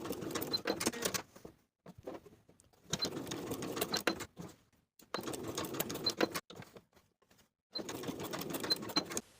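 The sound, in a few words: sewing machine basting blouse tie pieces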